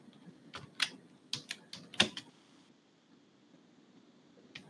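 Keystrokes on a computer keyboard, a quiet scattered burst of a dozen or so taps while typing search keywords, clustered in the first half and then trailing off to near silence with one last tap at the end.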